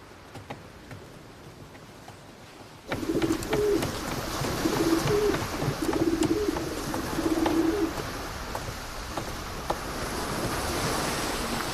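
Pigeons coo several times in soft, repeated low calls against steady wind and distant surf out at sea, no voices present.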